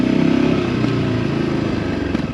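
A Voge 300 Rally motorcycle engine and exhaust sound loud and steady, with a pulsing throb that holds close and strong throughout, and no talk.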